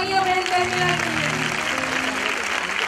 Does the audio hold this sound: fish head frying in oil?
no